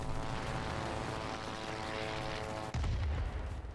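Twin-engine Bf 110 B warplane in World of Warplanes gameplay: a steady, loud propeller engine drone with a dense roar throughout, briefly dipping near the end before surging again.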